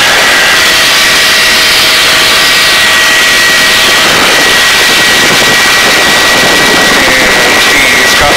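A search and rescue helicopter hovers during a mountain hoist rescue on Granite Mountain, its turbine whine and rotor roar very loud, close and continuous, with no other sounds over it.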